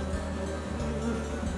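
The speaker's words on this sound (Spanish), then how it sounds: "seis abejas, six bees" Bees buzz in a steady, close drone, several insects humming together without pause.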